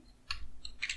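Keys on a computer keyboard tapped out in a few quick bursts while a Windows command is entered, close and fairly soft with short pauses between clusters of clicks.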